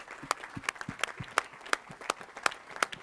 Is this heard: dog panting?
no